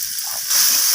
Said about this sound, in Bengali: তো লবণটা দিয়ে আমি আবারও নাড়াচাড়া করে কষিয়ে নিচ্ছি